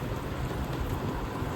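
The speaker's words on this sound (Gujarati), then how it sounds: "આવે છે વરસાદ આવે છે" Steady rain falls outside a house in Gujarat, a dense, even patter with low rumbling underneath that holds at the same level throughout, with no voices.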